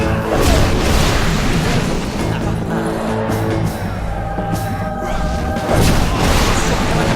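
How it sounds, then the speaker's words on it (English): Fire spell cast in Fable 3 erupts in a loud, dense burst of booming, crackling roar, swelling again toward the end amid a thick game mix of tonal hum and clatter. "Fire spell."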